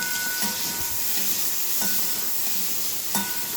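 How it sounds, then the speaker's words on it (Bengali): Potato and pumpkin pieces fry in a pan with a steady sizzling hiss, broken by a few soft stirring scrapes. "তরকারি হচ্ছে এখানে আলু আর কুমড়ো ভাজা ভাজা করে হচ্ছে।"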